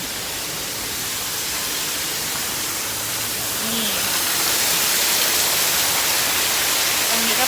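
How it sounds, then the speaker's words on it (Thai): Steady broadband roar of a waterfall at a tourist spot in Khao Yai, Thailand, just after rain, continuous and fairly close, swelling slightly louder midway with no voices over it. "เราเดินไปถ่ายน้ำตกกัน น้ำตกอยู่ตรงนี้"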